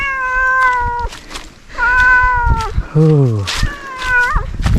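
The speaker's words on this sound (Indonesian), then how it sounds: "Nggak tahu nih kucing siapa nih." A cat meows up close in a rural Sundanese village, about four or five drawn-out, wavering meows in a row with short pauses between them.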